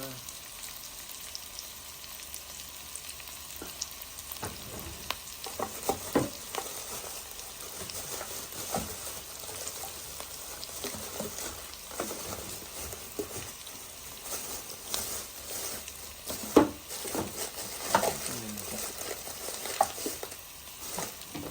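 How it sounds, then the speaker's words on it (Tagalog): Fish frying in a pan, a steady close sizzle with scattered pops and occasional stirring scrapes. "Ginisa lang po natin, tapos timplahan lang po natin ng asin"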